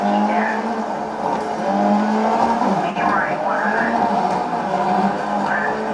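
Racing car engine and tire noise from the video game GRID played on an Nvidia Shield tablet, a steady continuous drone with occasional squeal-like sweeps, loud throughout.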